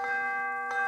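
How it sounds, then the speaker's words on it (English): A nearer bell from Puccini's opera Tosca, two soft tolls with a long ringing tone sustained between them, moderately quiet and clear, with no voices. "This next bell is a little closer, meno lontano."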